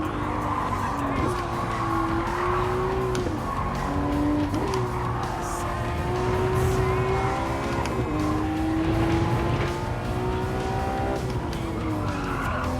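A Porsche road car in Gran Turismo 7 drives hard with a steady engine drone and repeated long tire squeals as it skids, loud and continuous, while someone talks over it.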